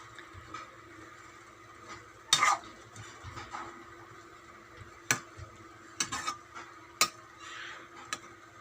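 Kangkong and sardines being stirred in a pan, with scattered soft scraping clicks and a few sharper utensil knocks against the pan over a quiet background hum, close and fairly faint.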